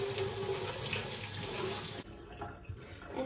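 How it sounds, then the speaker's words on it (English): Tap water runs steadily into a kitchen sink while cleaned shrimp are rinsed, a constant rushing splash that cuts off abruptly partway through, leaving quiet handling noises. "once it's all out, as you guys can see, we're gonna wash it"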